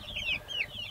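Young meat chicks in a brooder housing about 75 birds give repeated soft, high chirping peeps in quick overlapping bursts, close and steady, with no talking.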